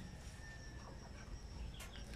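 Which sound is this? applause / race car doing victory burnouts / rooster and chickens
rooster and chickens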